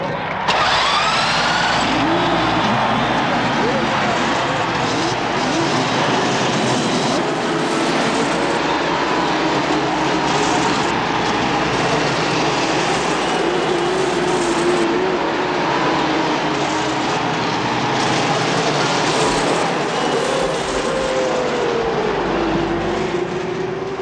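Indy 500 race cars roar together at the start, a dense, continuous wall of engine noise with rising and falling pitch sweeps as cars roll off the grid, loud and sustained for the whole stretch.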